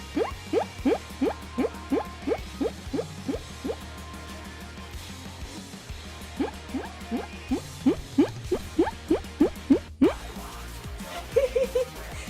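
A voice imitates a guinea pig's squeak, rapid rising chirps repeated in quick bursts, a short pause between two runs, fairly quiet and close.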